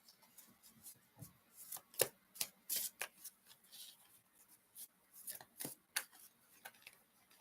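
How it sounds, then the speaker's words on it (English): Soft riffling and snapping of tarot cards being shuffled, a series of quick papery flicks and taps, close and quiet. "let me shuffle these cards, make sure."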